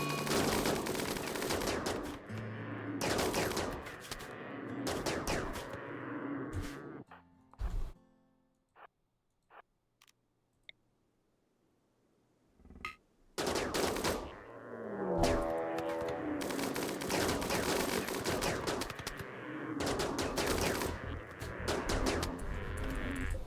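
Bursts of rapid gunfire in a Rimworld battle, dense machine-gun volleys with scattered single shots. A quiet gap near the middle holds only a few isolated pops before the loud firing resumes.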